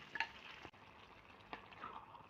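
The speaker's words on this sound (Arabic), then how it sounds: "هنبدا ننزل بيها على طول كده وهي سخنه" Hot golden fried garlic topping poured straight onto cooked spinach gives a soft, close sizzle and crackle, with light stirring scrapes and a brief clink.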